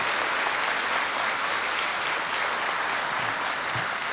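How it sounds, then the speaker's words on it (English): An audience at a school production gives a big round of applause, a dense, continuous clapping wash holding at steady volume with no voices over it. "If you could please give those members a great round of applause"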